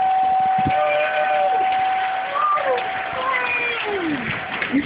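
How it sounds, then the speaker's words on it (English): Tornado sirens wail during a storm, with a steady high tone and rising and falling sweeps over a rough windy background. Distant voices and commotion mix in. "Sirens is going off still."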